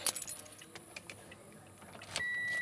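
Keys jangle and click near a Toyota Fielder as it is started, a few metallic rattles followed by a rising electrical whine and steady hum as the car comes on.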